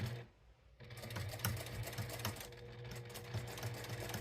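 A sewing machine stitches fabric for a zipper pouch in a quiet, fast, even patter of needle strokes after a brief pause at the start.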